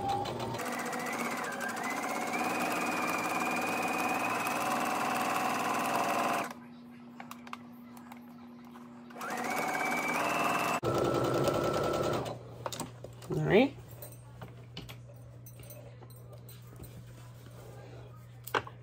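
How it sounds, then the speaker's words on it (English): A home sewing machine stitches a gathered skirt seam in long steady runs, pausing and briefly reversing for a backstitch, loud and close, with a short stretch of quieter handling and small clicks between runs. "I'm going to go ahead and sew. And I'm going to backstitch."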